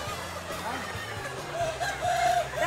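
A large flock of Mia chickens on a farm of about seven thousand birds clucks and calls steadily in the background, with a few rooster-like crows rising near the end under distant outdoor noise.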